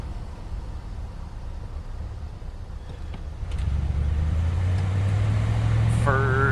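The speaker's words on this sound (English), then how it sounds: "let me stop here and run the gears through the transmission once again" A 1978 Calais car on the road, with steady engine and road noise that rises into a stronger drone as it accelerates through the gears, and someone speaking over it near the end.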